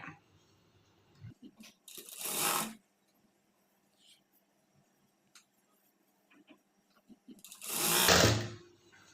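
Sewing machine stitching a blouse seam in two short bursts of whirring, close and fairly loud, with quiet handling noises and small clicks in the pauses between runs.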